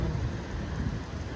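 Rain pours down outside a restaurant, a dense steady hiss with a low rumbling undertone, close and continuous with no voices.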